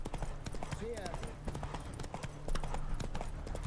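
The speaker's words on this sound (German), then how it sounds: "Dann kommt mal ein bisschen Galopp." Horse hooves galloping in the video game The Witcher 3, a quick rhythmic clip-clop of steady beats, faint and under a person talking, with a brief neigh early on.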